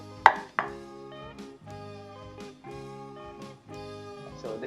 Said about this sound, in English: let's cut up all the vegetables